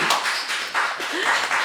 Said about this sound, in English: let's have a big round of applause from the 3 people and the 3 dogs in the kitchen